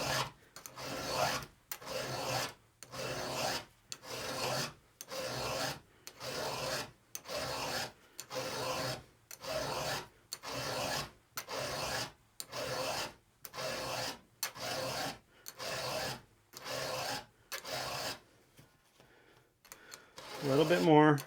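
A chainsaw chain being sharpened with a chainsaw file, steady rhythmic rasping strokes repeating about every second, close and loud, with a short pause near the end.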